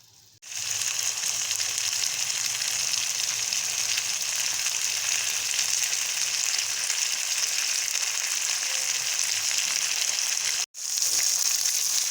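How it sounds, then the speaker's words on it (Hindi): Boiled kidney beans fry in spice masala in a pan, giving a steady, close, continuous sizzle for the whole stretch with only a brief break near the end and no talking. "ये मैं इसमें ऐड कर देती हूँ और इसको थोड़ी सी देर हम फ्राई करते हैं ताकि लोबिया में सारा मसाला अच्छे से एब्जॉर्ब हो जाए।"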